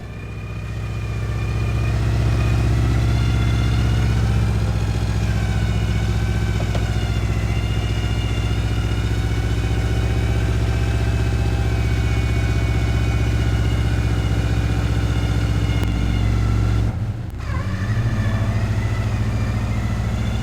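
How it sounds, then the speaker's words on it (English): Subaru Forester engine running steadily while winching up a steep offroad hill, a loud, close, continuous drone with stable harmonics and a brief dip near the end before resuming. "Here you'll notice the car is lurching forward, then stopping, then lurching forward, and so on."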